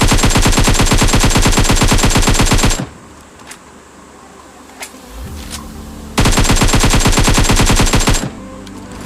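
Scar-L rifle fire in a battle royale video game: two long, loud bursts of rapid automatic shots, separated by a few seconds of quieter game ambience with a couple of isolated pops.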